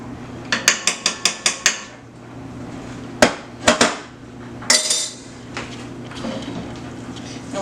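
Pork and rice being stirred together in a pan with a utensil, a quick run of sharp metallic clanks followed by a few scattered scrapes and knocks, close and clear, no voices.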